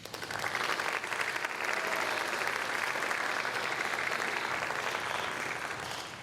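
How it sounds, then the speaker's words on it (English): An audience at a high school National Honor Society induction ceremony claps together in sustained, dense applause that holds steady for several seconds before tapering slightly. "Please join me in thanking them with a round of applause."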